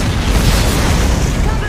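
A loud, sustained explosion boom plays as a viewer-triggered Kaboom stream alert, a dense rumbling burst filling the short stretch without pause.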